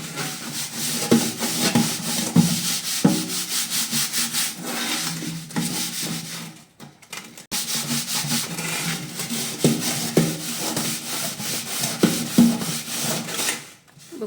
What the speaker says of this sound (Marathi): मी आता स्वच्छ रांगोळीने पूर्ण डबा घासून घेते